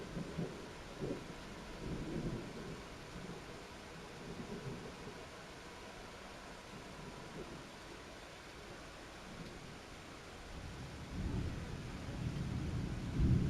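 Deep, rolling thunder rumbles through a thunderstorm, swelling and fading over a steady hiss of rain, with the loudest rumble building near the end.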